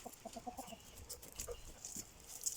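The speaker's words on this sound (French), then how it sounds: "Les cocottes se fâchent, elles ont soif les cocottes." Hens cluck in a series of short, rhythmic notes inside a long garden henhouse, fairly close and moderately loud, with a few sharper squawks and rustling from the flock.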